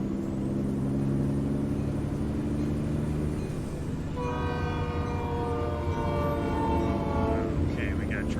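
A train rumbles past close by with a steady, heavy roar, and a loud, sustained multi-tone horn blares for several seconds in the second half of the pass.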